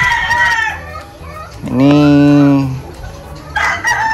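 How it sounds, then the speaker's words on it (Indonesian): Rooster crowing near at hand in a backyard poultry collection that includes Bali green junglefowl: a single loud, drawn-out crow in the middle, with clucks and a brief spoken word before and after. "ayam berkicau ini"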